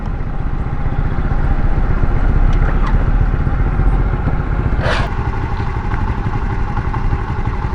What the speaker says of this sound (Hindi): ज़रा मैं यहाँ पे मोटरसाइकिल रोकूं